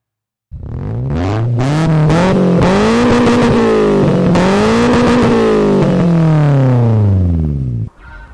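A Subaru Impreza engine in the Gran Turismo 2 racing game roars loudly and up close, its pitch climbing and falling as the car accelerates and shifts through a sustained run before cutting off abruptly.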